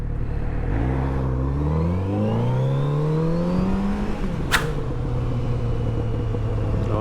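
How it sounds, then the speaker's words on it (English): Moto Guzzi V100 Mandello S motorcycle on its stock exhaust revving up, a deep engine note climbing steadily in pitch for several seconds, then dropping back to a steady idle after a sharp click. "Oh, the sound of this bike is just perfect. This is stock, you know."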